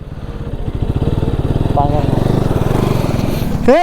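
A motorcycle engine revs hard and steadily for a power wheelie during half-stretch riding practice, a close, loud, buzzing mid-pitched drone with rapid pulsing, rising briefly at the very end.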